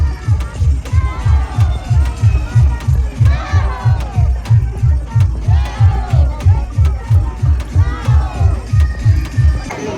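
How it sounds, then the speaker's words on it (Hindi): A large crowd at a Saraswati idol immersion procession, with a steady, loud drumbeat pounding under overlapping voices and shouts throughout. "देखो भीड़ कितना है।"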